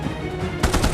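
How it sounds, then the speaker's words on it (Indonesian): Rapid gunfire during a shootout in the action film Red Notice, a brief loud burst of repeated shots ending in a quick rattling volley. "Tembak-tembakan pun terjadi."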